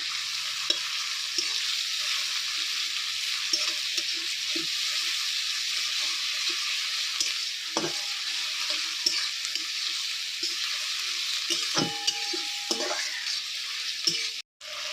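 Chopped chilli with ginger and garlic paste frying in oil while being stirred, a continuous bright sizzle with intermittent spatula scrapes and taps against the pan, close and steady, no talk.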